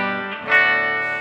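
An electric guitar played through a Fender Twin Reverb amp with the bright switch off, producing a single sustained distorted chord with a brief accent, loud and alone.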